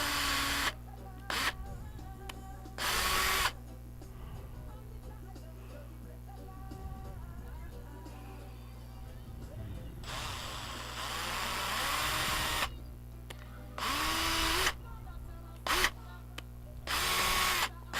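A power drill bores holes and drives screws into a hose for a micro sluice water supply, heard as several loud, short whirring bursts separated by quieter stretches.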